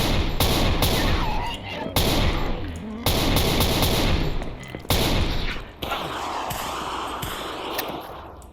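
Rapid bursts of automatic gunfire from a video game weapon as a magazine is emptied in guerrilla-style combat, loud and continuous with brief gaps between strings of shots.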